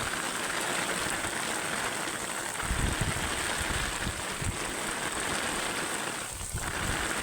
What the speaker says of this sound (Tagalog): Ayan, malakas na ulan mga idol.